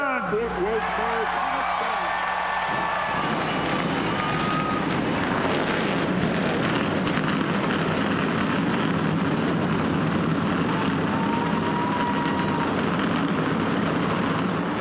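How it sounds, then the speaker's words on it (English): Stock car engines fire up and roar before the 1998 Texas 500 NASCAR race, the broad mechanical rumble building after a short pause and holding steady and loud, with wind buffeting the microphone. "Start your engines!"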